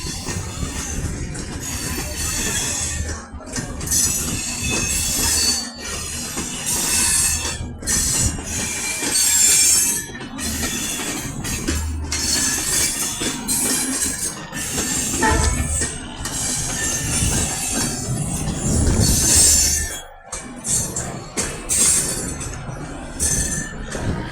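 A long 12-coach Indian passenger train rolls past, wheels squealing loudly against the rails with metallic clinks and continuous rumbling, close and sustained throughout.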